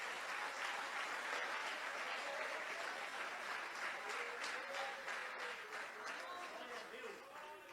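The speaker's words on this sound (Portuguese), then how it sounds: "Você consegue aplaudir ao Senhor pela sua palavra agora?" A church congregation applauds in a sustained, dense wash of clapping that fills the whole stretch and fades slightly toward the end.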